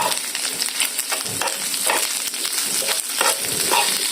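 Sisig sizzles steadily in a hot pan while a spatula stirs and scrapes through it, the frying hiss continuous and close with soft clatters of the utensil against the metal.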